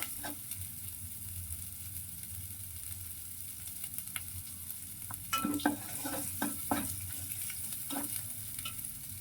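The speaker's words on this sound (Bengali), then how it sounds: "দেব হলুদ মরিচের গুঁড়া, লবণ একসাথে দেব, দিয়ে আর একবার একটু কষিয়ে নেব।" Shrimp and bottle gourd sautéing in a pan with turmeric, chili powder and salt, a steady close sizzle with a spatula scraping and stirring in several clustered strokes.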